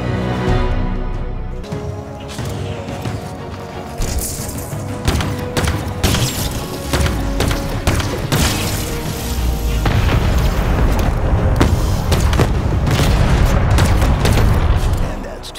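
Explosions in Halo Infinite blow up power regulators, with repeated heavy booms and shattering crashes over a dense rumbling game soundscape that stays loud throughout.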